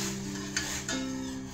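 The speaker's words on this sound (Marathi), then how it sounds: "मीठ ढवळून घ्यायचं, छान पाणी उकळून द्यायचं" A spoon stirs salt through water heating in a kadhai for pasta, giving a short scraping swirl over a steady low bubbling hiss, with two brief clinks.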